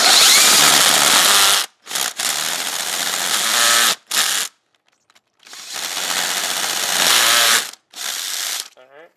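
A power tool with a slipping clutch tightens a spark plug on an engine with melted plug wires. It gives loud ratcheting bursts in about six runs, some long and some short, with brief silent gaps between them.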